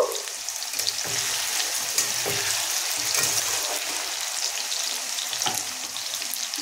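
Potatoes fry in hot oil with a dense, steady sizzle and crackle while a spatula stirs them now and then, close and loud.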